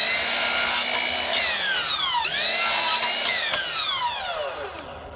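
A power saw cuts wood for shelf supports with a loud, continuous whine that rises and falls in pitch as the blade bites and eases, tapering off near the end.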